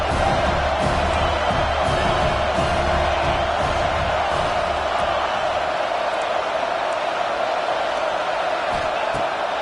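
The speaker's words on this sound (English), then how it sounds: "This crowd bringing the energy and noise early." A large stadium crowd in the football video game NCAA 26 roars continuously, a dense wall of cheering and shouting that stays loud and unbroken throughout.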